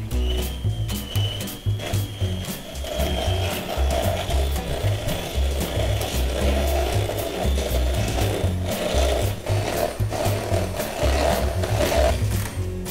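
Electric hand mixer whipping mascarpone cream with vanilla, a steady loud whirring hum with constant rattling clicks of the beaters against the bowl, running throughout without talk.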